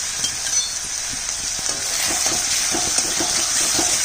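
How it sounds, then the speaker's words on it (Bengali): Continuous bright sizzle of onion paste with garlic paste frying until browned in a pan, with faint stirring taps underneath and no talking. "পেঁয়াজটাকে লাল করে ভাজবো"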